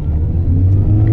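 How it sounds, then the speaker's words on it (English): A supercharged Mini Cooper engine revs hard on a cold start, a loud, steady low rumble with a held rev that rises and falls slightly over a moment, heard from close by inside the small car. "Way to just rev it on a cold start."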